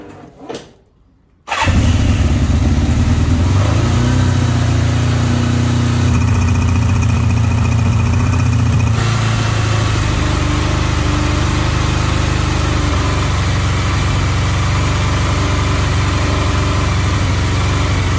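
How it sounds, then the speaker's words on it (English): A 1986 Kawasaki GPZ550 motorcycle, fitted with race silencers, is started on choke after a short crank and settles into a steady, loud, close idle that runs on without pause and with no talking. "We're going to fire it up anyway."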